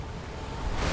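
Water swelling and rushing through an ancient temple in Visions of Mana, a steady broadband wash that builds louder toward the end, with no one talking over it.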